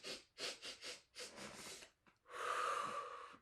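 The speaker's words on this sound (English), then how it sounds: "Let's see how many breaths you can take and fill up your belly with those big belly breaths." A child's deep belly breaths during a movement lesson, a series of close, quick audible inhales and exhales ending in one longer, louder breath.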